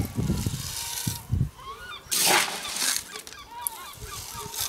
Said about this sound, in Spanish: La escandalera que tenemos hoy con las gaviotas